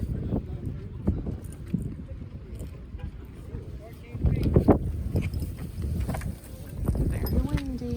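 Gusty wind buffets an outdoor flea market, blustery rushes and microphone rumble rising and falling, with people talking intermittently and scattered handling clatter underneath.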